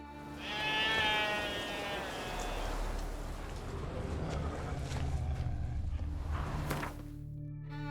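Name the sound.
sheep bleating in video game The Witcher 3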